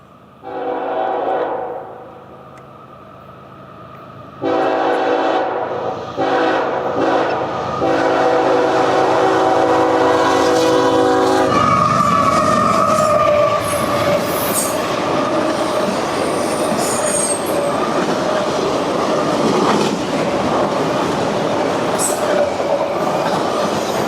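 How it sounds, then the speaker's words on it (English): CSX freight I-025 rolling southbound with the NC and SL heritage locomotive, its horn sounding in several blasts before the train arrives close and loud, then a long continuous rumble of wheels and cars with occasional squeals. "here comes our train. CSX I-025, southbound with the NC and SL heritage unit"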